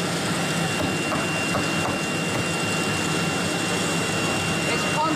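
A vacuum pump runs on an MS1325AC3 three-spindle CNC engraving machine for furniture, giving a steady, dense, loud mechanical whir and hiss without pause.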